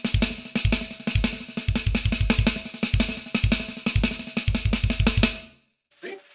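A loud, close drum kit plays a busy groove after a paradiddle-diddle, mixing fast snare and cymbal strokes with repeated deep kick thumps in a driving, steady rhythm. It stops suddenly, and a brief voice follows.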